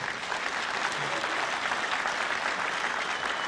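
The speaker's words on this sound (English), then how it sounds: "And Paul, just hearing the crowd, I mean, the atmosphere as well" A crowd at the World Indoor Bowls Championships applauds steadily, a dense continuous patter of clapping that fills the hall without pause.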